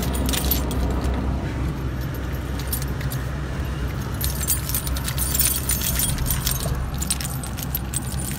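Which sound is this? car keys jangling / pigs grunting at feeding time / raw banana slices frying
car keys jangling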